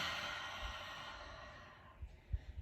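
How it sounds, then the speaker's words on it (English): A long, steady exhale through the mouth during a Pilates breathing exercise, a soft airy breath that fades toward the end and is followed by a few faint low thumps. "Exhale, let all the air out like you're fogging a mirror"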